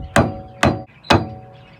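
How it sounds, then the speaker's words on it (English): Three sharp metal-on-metal hammer strikes, evenly spaced and close, knocking a tie rod end loose from the steering rack of a 1994-99 Toyota Celica, each ringing briefly before fading. "You can then get a hammer"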